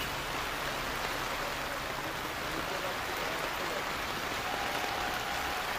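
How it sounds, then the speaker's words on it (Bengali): Heavy rain falling in Kakdwip under dark clouds, a steady, even hiss of downpour with no breaks, heard at a moderate distance. "বৃষ্টিটা হচ্ছে দেখুন কিভাবে"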